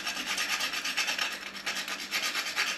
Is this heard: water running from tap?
no